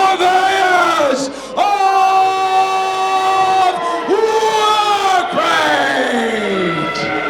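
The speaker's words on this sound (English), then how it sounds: "The crowd is electric." A wrestling crowd before a tag team dog collar match, sustained loud cheering and sung, chanting voices rising and falling in long swells, with brief dips between them.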